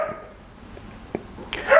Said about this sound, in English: forgive us for the puppies barking outside